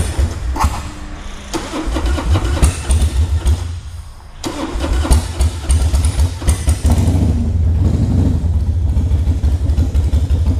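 A carbureted Harley-Davidson Softail Standard motorcycle engine starts from cold, cranking and catching with a loud, lumpy idle that falters briefly before settling into a steady, rumbling run close by.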